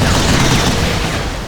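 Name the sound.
heavy machine gun firing in video game Vanquish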